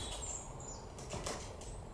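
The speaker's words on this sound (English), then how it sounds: "It sounds like a pigeon." Faint, distant wing flaps and light scuffling of a pigeon on the roof overhead, a few soft bursts against quiet background hiss.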